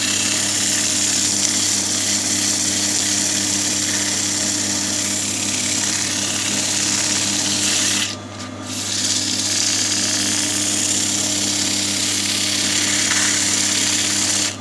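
A power sander works across wood in a steady, continuous whine and grind, loud and close, with one brief dip partway through before it runs on unbroken.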